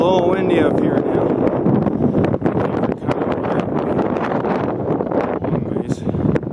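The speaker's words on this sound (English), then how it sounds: "It's a little windy up here now." Wind gusting over the Nankoweep Trail buffets the microphone with a loud, continuous, rough rumble that stays steady throughout, with no clear voice above it.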